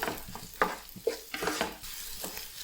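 Ginger pieces fry in a pan for beef ularthiyathu, a soft crackling sizzle broken by several scraping stirs and light clinks of a spoon against the pan.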